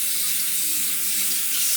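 A tap runs steadily into a sink for rinsing during a wet shave, a close, even hiss of flowing water with no breaks.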